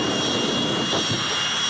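Casey Jones' jet car at a drag racing event, its afterburner roaring as a steady, loud, broadband rush with a high whine running under it.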